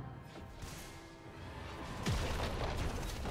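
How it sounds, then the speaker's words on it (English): A turret being destroyed in League of Legends, with deep booming crashes and whooshing impacts amid steady game effects, the loudest blast landing near the middle and its rumble trailing off. "Red team's turret has been destroyed."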